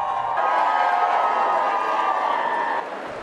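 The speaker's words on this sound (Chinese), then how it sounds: "一路上掌声不断响起。" A large crowd at the Wimbledon men's singles final applauds and cheers in a sustained, even roar that fills the stands, then eases slightly near the end.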